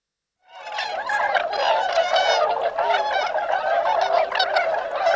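A flock of waterfowl calls as it flies over, many honking and gabbling voices overlapping continuously after a sudden start, loud and close, with no talking.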